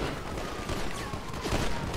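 Dense gunfire in GTA V during a multiplayer gang firefight, a continuous distant crackle of many rapid shots blending into a rough, even roar without pauses.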